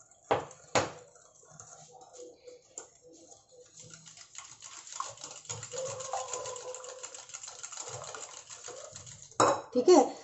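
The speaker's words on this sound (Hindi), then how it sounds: "शुगर अच्छी तरह मिक्स कर देंगे।" Sugar, curd and oil stirred together in a bowl for whole-wheat muffin batter, with scraping, clinking utensil strokes against the bowl, a couple of sharp knocks at the start and a louder clatter near the end.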